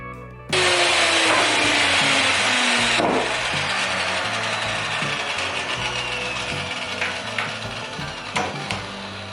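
A miter saw bites into a cedar board for a raised planter box, a loud close whine of the blade cutting through, then spinning down with faint clicks and rattles as it slows.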